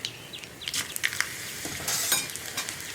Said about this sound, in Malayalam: ഇപ്പോൾ നമ്മുടെ കടുക് പൊട്ടി കഴിയുന്നുണ്ട്.